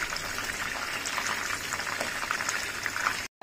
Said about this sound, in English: I have been frying this lollipop for about 7 minutes and they are done